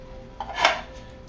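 A metal lid pried off a can, a short close metallic clink and scrape lasting under a second.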